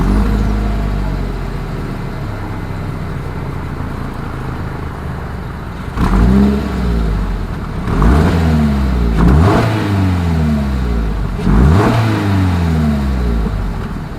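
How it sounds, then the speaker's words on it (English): A 2022 Toyota GR86 sports car revs through its dual exhaust: a steady idle, then three or four sharp throttle blips that rise and fall quickly, loud and close, with no voices. "As always, here is that exhaust clip."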